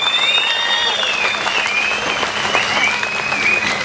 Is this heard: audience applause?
yes